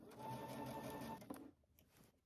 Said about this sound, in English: we're gonna sew using 5/8 of an inch seam allowance until we get to the center front dot